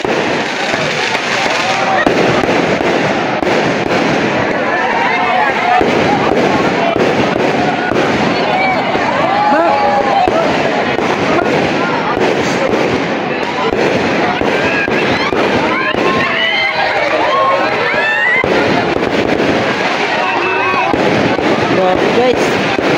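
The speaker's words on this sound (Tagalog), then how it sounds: "Grabe guys, may pa fireworks pa." Dense, continuous crackling and popping of fireworks bursting nonstop, loud and close, with occasional voices underneath.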